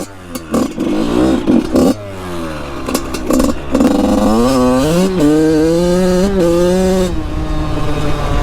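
A cheap secondhand dirt bike engine warming up, revving repeatedly in loud rising and falling bursts, close by and continuous with no talk.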